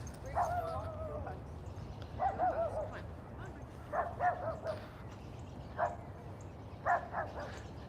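Several dogs bark and yip back and forth in short bursts, one setting off another, at moderate distance against a steady background hum.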